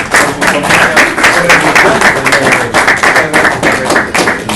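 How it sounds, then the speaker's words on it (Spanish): Loud, dense audience applause at an academic lecture on maize, steady clapping from many hands filling the whole stretch without a break. "darle un fuerte aplauso"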